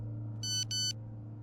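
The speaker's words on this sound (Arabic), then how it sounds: "طيب موبايله بيرن." A phone rings in the horror video game Cry of Fear: two short electronic ringing bursts, bright and tonal, over a steady low game-ambience hum.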